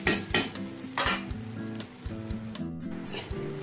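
A coarse ginger, garlic and cumin paste sizzles in a hot pan while being stirred, with repeated metallic clanks of a spoon against the pan over the frying crackle.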